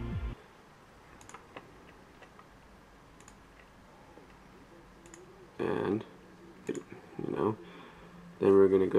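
Mouse clicks on a computer: a few sharp, faint clicks spread over a quiet room, with short bursts of speech in between.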